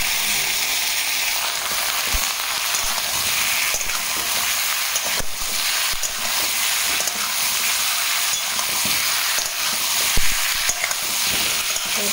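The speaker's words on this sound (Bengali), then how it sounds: "তারপর আনাজগুলো ভাজতে দিয়ে" Chopped vegetables fry in a pan in a home kitchen, a loud, steady sizzle that holds throughout, broken now and then by soft scrapes of stirring.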